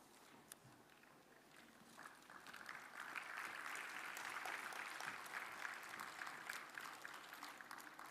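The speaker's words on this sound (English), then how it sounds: "And a round of applause on the release of ISHTA Technologies Compendium by the Honorable Minister." Round of applause at a healthcare policy conference in India marking a compendium release, fairly faint and distant, swelling after a couple of seconds into steady sustained clapping.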